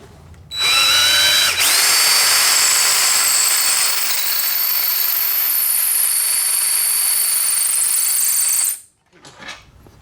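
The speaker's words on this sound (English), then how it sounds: "I'm going to move up to a larger bit, go the rest of the way through the antler" A power drill boring through antler whirs up to speed and grinds steadily at high pitch for several seconds, then winds down and stops, with faint handling noise after.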